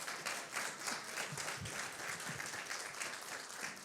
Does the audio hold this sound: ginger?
no